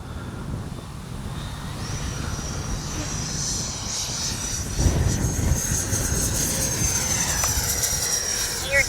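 A Freewing MiG-29 80mm electric ducted-fan RC jet makes a pass in a dark sky, a sustained whooshing turbine roar that swells and grows louder midway, then holds steady as it goes by.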